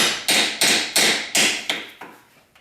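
Bolt tapped through a Honda Civic transmission mount, about seven sharp metallic hammer taps at an even rhythm, close and distinct, each ringing briefly before the next, growing slightly softer toward the end.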